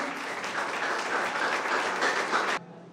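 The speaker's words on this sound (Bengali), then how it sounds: "সবাই একটু হাততালি দিয়ে উৎসাহিত করুন" Audience applause at a student interdisciplinary presentation competition, a dense steady wash of clapping from a large crowd that fills the room and then stops abruptly near the end.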